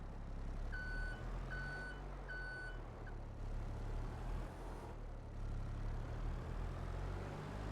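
Truck in a farming game, Fraser Valley, hauling a big load, gives three evenly spaced reversing beeps over a low, steady engine drone, then only the engine idling and rumbling continues.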